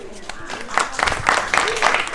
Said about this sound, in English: A round of applause please for our Chief Guest Dr. N. Stalin Jaikumar for officially declaring the Sahodaya Football Tournament open